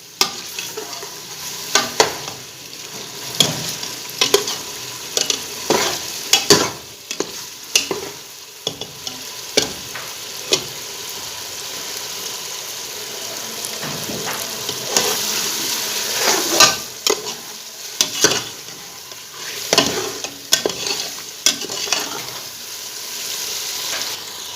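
Meat being stir-fried in a pan for kaddu gosht, a continuous sizzle punctuated by repeated scraping and stirring strokes, close and fairly loud with no talking.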